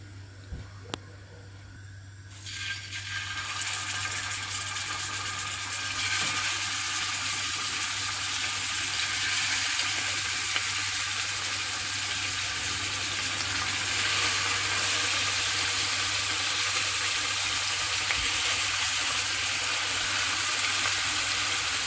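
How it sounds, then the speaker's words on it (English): Pork pieces drop into hot oil for stewing and sear with a loud, steady sizzle and hiss. The frying starts a few seconds in and holds at an even level, with no talk over it. "So let's go ahead and put our pork in our oil."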